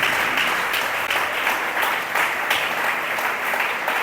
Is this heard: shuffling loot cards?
no